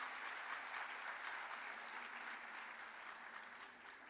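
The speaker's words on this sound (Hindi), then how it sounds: "तालियां थोड़ी कम बजी" Audience applause in a large hall at an Indian conference, a dense, even wash of many hands clapping that continues steadily and fades slightly toward the end, heard from a distance at low level.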